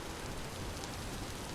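Rain falling in the video game Vintage Story, a dense, even hiss of steady rainfall with no talk, unchanging through the short stretch.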